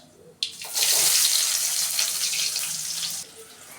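Mustard seeds tipped into hot oil while making vegetable Maggi noodles crackle and sizzle in a loud, steady, hissing burst that lasts about three seconds and then cuts off, with no talking.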